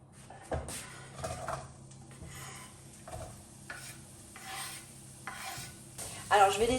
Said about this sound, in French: je vais le mettre à cuire dans un peu d'huile d'olive